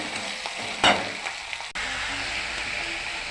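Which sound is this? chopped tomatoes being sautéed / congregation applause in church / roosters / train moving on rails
chopped tomatoes being sautéed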